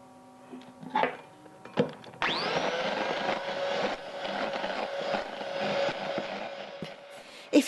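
Electric hand mixer beating egg into a sponge pudding batter in a bowl, a few clinks and taps first, then a steady loud whirring drone that runs continuously to the end, close and with no talk.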